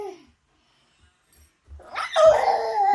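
A dog yips and whimpers close by, with a short cry at the start, near silence, then louder continuous whining and barking toward the end.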